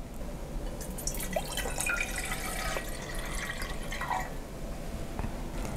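Water pours and splashes steadily into a cooking pot while preparing Cambodian sour soup, a continuous close trickle with light drips and no talking.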